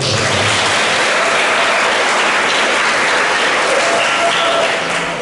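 Sustained applause from an audience at a school workshop on Dul Muluk traditional theatre, a dense steady wash of many hands clapping throughout, loud and even with no pauses.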